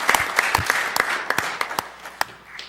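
Scattered clapping from a small audience at a city council meeting, a few hands striking in an uneven, thinning rhythm that fades out over a couple of seconds.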